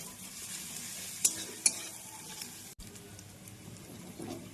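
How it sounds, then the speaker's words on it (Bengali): Boiled pigeon pea dal goes into a pan of fried tomatoes with asafoetida and gets stirred, a soft low sizzle and scraping running steadily, with two sharp utensil clicks early on. "এবার ডালটা এর মধ্যে দিয়ে দিলাম ডালটা প্রচুর ঘন হয়ে গেছে"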